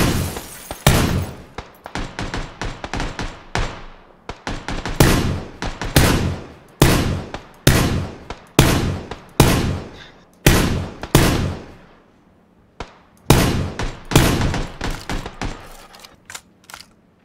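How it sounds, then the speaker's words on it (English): Sniper gunfire in PlayerUnknown's Battlegrounds, a long run of sharp, loud cracks at irregular intervals, some in quick clusters, each decaying in a short echo, with a brief lull near the twelve-second mark. "They're getting sniped by other people."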